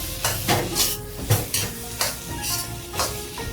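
Curry shrimp and pineapple fried rice with blanched ingredients tossed in a wok, loud sizzling with repeated sharp scraping stirs about every half second, close and busy, no talk.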